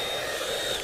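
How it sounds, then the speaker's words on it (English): A blow dryer runs steadily at close range, a loud, even whoosh with no voices. "go ahead and turn the blow dryer off."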